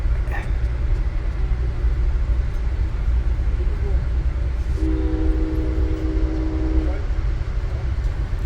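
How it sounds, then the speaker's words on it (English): An Amtrak long-distance train rumbles steadily, and partway through its horn sounds, a sustained tonal blast at moderate distance lasting about two seconds. "just listen to the horn on that train"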